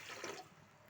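Water poured into sugar to make gulab jamun syrup, a close, steady rush of liquid that is strongest early on and then thins to a softer trickle.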